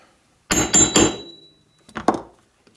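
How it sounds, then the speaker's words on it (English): Hammer taps on white cowhide leather while a back pocket is lined up and stitched onto a case: three quick sharp knocks, a pause, then two more close, loud strikes. "Grab my hammer."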